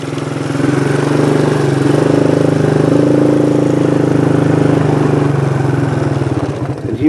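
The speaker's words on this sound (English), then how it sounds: "here we are back at Jeff's tractor" A tractor engine idles at a ranch hosting a music festival, a close, steady low rumble with a fast regular throb that fades slightly toward the end.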